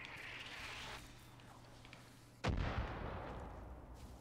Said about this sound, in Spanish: Tantas explosiones.